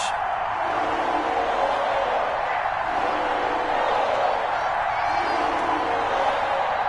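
A stadium crowd roars steadily throughout an EA Sports NFL video game matchup between the Tennessee Titans and Jacksonville Jaguars, loud and continuous, with a commentator's voice over it.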